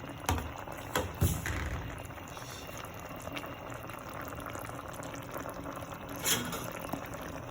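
Karinas stew bubbles in a pot on a rustic home stove, a soft continuous simmer with gentle popping bubbles and a few louder knocks and clinks near the start and later on, faint and close.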